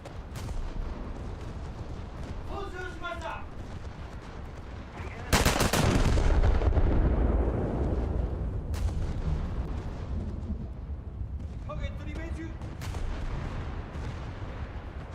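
Heavy battleship guns in a naval video game fire at targets: one big loud boom near the middle rolls into a long rumbling decay, with lighter distant shots and background game noise before and after.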